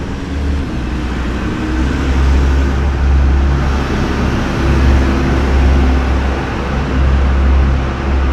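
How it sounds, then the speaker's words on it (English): A car passes outdoors over steady low road rumble, a single vehicle swelling and fading amid continuous traffic noise with no talk. "And another random car."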